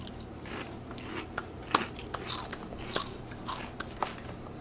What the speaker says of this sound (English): It's just us eating Doritos like shamelessly